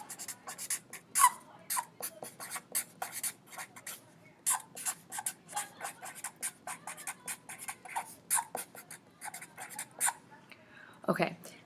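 A pen writes a label on a study folder, a close series of short scratchy strokes and pauses running throughout, with a brief louder rub near the end.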